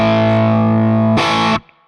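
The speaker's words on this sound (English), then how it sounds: "I prefer playing power chords this way, because you get the root note twice, which really reinforces the tonal center of the chord" Distorted electric guitar power chord with the root doubled an octave higher, ringing loud and sustained, then a second fresh strum partway through before being choked off into near silence.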